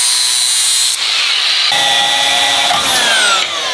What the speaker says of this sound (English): We'll put a little bevel on this to make it easier to weld on.